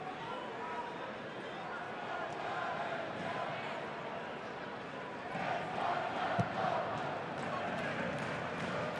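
A crowd fills a football stadium at a Friday night Wellington Phoenix A-League match, producing a steady, distant roar that swells slightly partway through, with a commentator talking over it.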